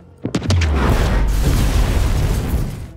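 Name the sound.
explosion blowing up the road to the room in a film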